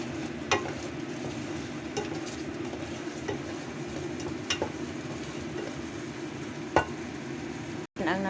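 Cooked udon noodles are stirred in a pan with ground black pepper, giving a soft steady scraping and low sizzle with a few sharp clicks of the utensil against the pan, close and fairly quiet, with no talk.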